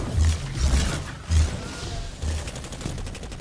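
Tommy's Matchbook, an exotic automatic rifle in Destiny 2, fires several short bursts of heavy thumping shots in an uneven rhythm, loud and close, with game effects in between.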